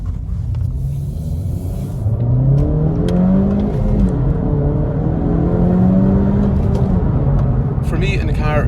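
A Honda Civic FK7 1.5 VTEC Turbo engine hums and builds steadily as the car accelerates, a continuous close rumble with rising pitch and road noise underneath.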